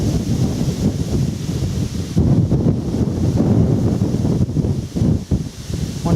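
Wind blows hard across an open countryside path beneath power pylons near fields of barley, a loud continuous rushing with gusts buffeting the microphone.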